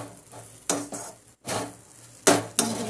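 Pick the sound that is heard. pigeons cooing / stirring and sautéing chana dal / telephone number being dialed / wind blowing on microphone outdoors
stirring and sautéing chana dal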